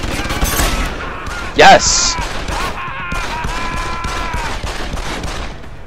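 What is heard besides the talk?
gunshots in the video game Deus Ex: Human Revolution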